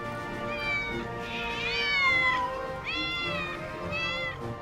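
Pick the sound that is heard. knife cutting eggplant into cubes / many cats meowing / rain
many cats meowing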